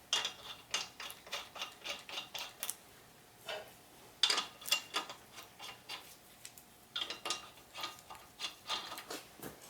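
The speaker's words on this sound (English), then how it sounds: "And then screw our lug nuts" Lug nuts being screwed onto a Chevrolet Malibu wheel: quiet, close metallic ticking and clicking in quick irregular bursts, with a short pause partway through.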